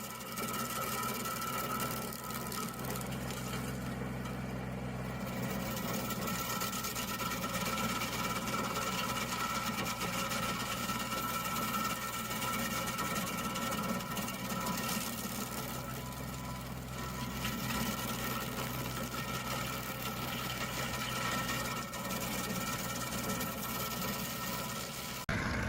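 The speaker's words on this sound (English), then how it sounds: "Here we see a powerful stump grinder in action." A powerful tree stump grinder running continuously with a steady mechanical drone and whine, constant and fairly even in loudness throughout, with no voices.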